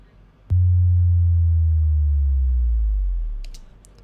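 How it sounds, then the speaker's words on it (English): A deep 90 Hz bass drop made by slowing down and pitch shifting a sound, hitting suddenly with a sharp transient and then sustaining a loud low rumble that slowly sinks for about three seconds before fading out, with a few faint clicks near the end. "that's a 90 Hz bass drop."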